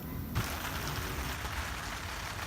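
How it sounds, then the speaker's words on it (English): Steady rain falls during a storm in Omaha, a dense, even hiss of drops on surfaces that holds constant throughout, with a brief louder patter near the start. "All right, so it is storming, raining"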